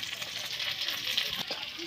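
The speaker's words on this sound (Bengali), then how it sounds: "এই দেখো মাছগুলো পেঁয়াজ কাঁচা লঙ্কা দিয়ে ভালো করে ভেজে নিচ্ছি" Dried fish frying in oil with onion and green chilli, a bright continuous sizzle close by with soft stirring scrapes mixed in.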